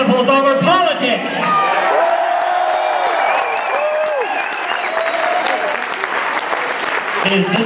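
Large rally crowd at a Ron Paul campaign event at KU applauding and cheering continuously, a dense steady roar of clapping with whoops and shouted voices throughout.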